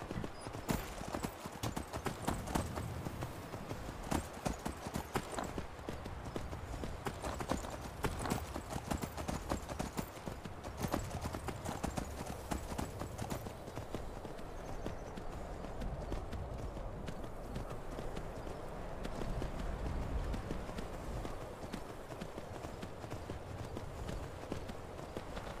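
Horse hooves clip-clop steadily at a trot in the fantasy video game Skyrim, a continuous rhythmic run with a brief whinny amid game ambience and no talking.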